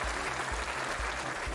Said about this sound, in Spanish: Un aplauso, señores. Un aplauso.